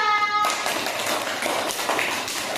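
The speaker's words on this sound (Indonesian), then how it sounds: "beri aplaus untuk kelompok 2" Classroom applause for group 2 in an Islamic cultural history lesson at UIN Raden Patah Palembang: steady, dense clapping from a group begins abruptly after a brief moment and continues evenly at close range.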